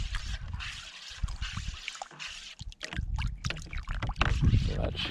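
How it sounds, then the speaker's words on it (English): Silty water mixed with alum is stirred and agitated in a container, giving close, irregular sloshing, splashing and trickling sounds with small knocks. "you got to agitate it to make sure all the alum is mixed in with the silty water"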